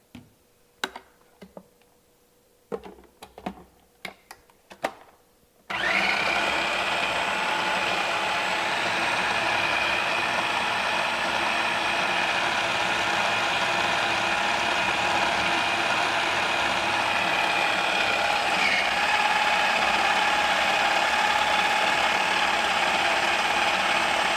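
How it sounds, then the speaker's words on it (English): A blender whirs loud and steady for about eighteen seconds, pureeing dates with maple syrup and lemon into a coconut lemon tart filling, after a few sharp mechanical clicks and taps at the start. "I just want to make sure that the dates are very blended."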